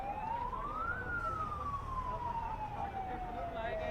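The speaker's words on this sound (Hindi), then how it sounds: "ये सीधे तौर पर दमकल की गाड़ियां हैं वो एक एक करके जो जा रही हैं" Fire engine sirens wail, rising and then slowly falling, as fire trucks pass one after another on their way to a blaze at an electricity department office in Raipur. The sirens sound faint and distant against a steady rumble of traffic.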